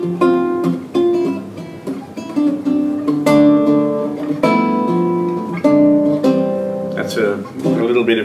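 A guitar plays a close fingerstyle passage with a melody over a bass line during an interview; other sounds may be faintly mixed in.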